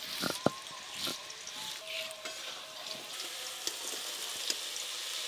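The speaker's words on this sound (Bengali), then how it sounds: "আলুগুলো ভেজে নেব।" Potatoes frying in a pan send up a steady, fairly soft sizzle, with a few sharp pops and light clicks scattered through it and no talking.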